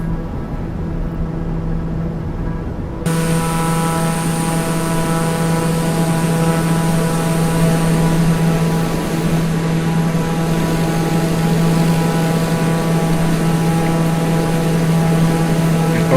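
Steady turboprop drone of a SimWorks TBM 900 climbing in MSFS 2020, a constant engine hum with a strong low tone and layered harmonics, loud and continuous after a slightly quieter opening few seconds, with no talk.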